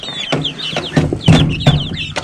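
Barnyard-mix chicks cluck and peep in a close, busy chorus of short, repeated calls.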